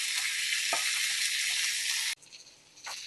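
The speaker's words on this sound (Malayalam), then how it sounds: "നമ്മൾ വറ്റിച്ച് വെച്ചിരിക്കുന്ന ചക്കക്കുരു ഇതിനകത്തേക്ക് ഇടാം." Jackfruit seeds that were boiled and drained hiss and sizzle in a pan with spice powder, a steady loud frying hiss that cuts off abruptly partway and resumes softer, with a brief stir near the start.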